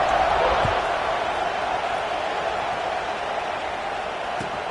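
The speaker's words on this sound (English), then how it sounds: "this crowd is buzzing after that last score" Steady crowd murmur fills a football stadium just after a touchdown and extra point, a broad, continuous buzz of many voices heard at a distance with no single standout sound.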